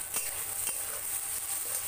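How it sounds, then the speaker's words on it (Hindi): Dried red chilies fry in a pan for chow mein, giving a steady close sizzle broken by a few light scraping stirs. "थोड़ा सा मिर्ची डाल के मैंने इसे भूना"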